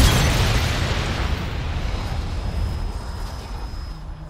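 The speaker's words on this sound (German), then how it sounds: "Das war nur eine Blendgranate." A flashbang grenade goes off with a loud, broad blast at the start, then a long rushing roar and ringing tone that slowly fade over several seconds, with no talk.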